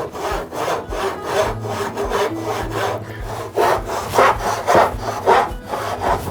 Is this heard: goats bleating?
no